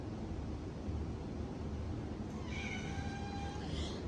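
A house cat meows faintly near the end, a thin drawn-out call rising over steady background noise after a stretch without it.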